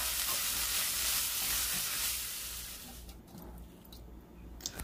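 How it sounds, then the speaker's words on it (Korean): Seasoned bracken fern (gosari namul) stir-fries in a pan with a loud, dense sizzle at first. The hiss then dies down to a quieter crackle with faint stirring. "고사리 나물 맛있게 볶아 보겠습니다"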